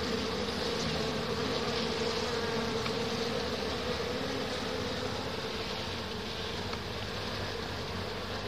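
Dense, steady buzzing of many honey bees swarming around a managed beehive, filling the whole stretch at close range with no voices.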